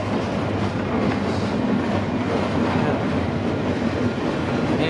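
CPKC freight train 421 working in E-Yard: a steady, distant rumble of rolling rail cars with faint clickety-clack, continuous and moderately loud, without talking.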